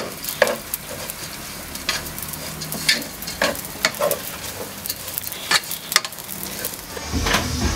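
Food is stirred in a frying pan, with a spoon scraping and tapping in an irregular rhythm over a steady close sizzle.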